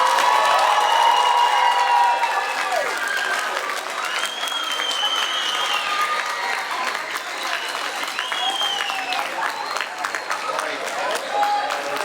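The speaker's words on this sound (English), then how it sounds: "can we give them all one more really big round of applause?" An audience claps steadily after a school choir concert, loud continuous applause with some cheers and children's shouts mixed in, filling the whole stretch.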